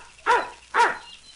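A person imitates a dog barking, giving two distinct woof-like barks about half a second apart, close and clear against a quiet background.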